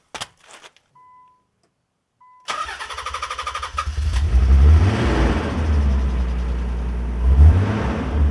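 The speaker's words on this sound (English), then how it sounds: "Cold start, 300ZX, twin turbo." A 1992 Nissan 300ZX twin turbo cranks and fires on a cold start after a short click, then settles into a loud, steady rough idle with a brief rev near the end.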